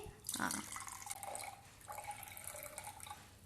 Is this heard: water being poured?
yes